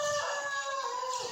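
A rooster crows close by in one loud, drawn-out, wavering call, with faint farmyard clucking underneath.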